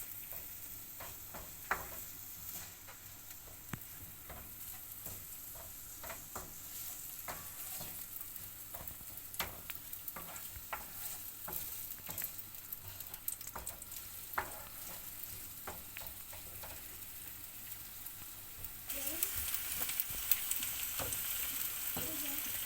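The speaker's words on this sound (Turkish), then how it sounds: "Soğanlarımızı ilave ediyoruz. Karamele olana kadar kavuracağız biraz." Chopped onions sizzle steadily in oil in a pan as they are sautéed toward caramelized, with a constant frying hiss broken by scattered clicks and scrapes of stirring.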